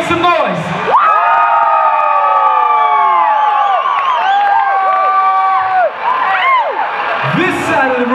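A dance-battle crowd at a semifinal shouts, whoops and cheers loudly, with many overlapping voices rising and falling in sustained yells throughout, close and dense.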